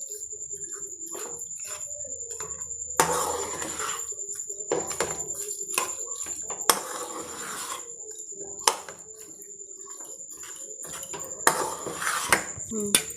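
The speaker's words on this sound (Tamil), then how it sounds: "இப்போ இது மாதிரி மேஷ் பண்ணிக்கோங்க" Bread halwa being mashed in a pan, a metal spoon or spatula clanking and scraping against the pan in repeated bursts, close by, with quiet pauses between strokes.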